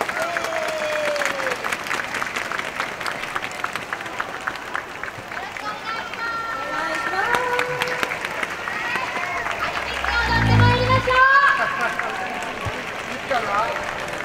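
Steady applause and cheering from a large crowd at an outdoor music festival's bon-odori dance fills the whole stretch, swelling louder near the end, with a busy murmur of voices underneath.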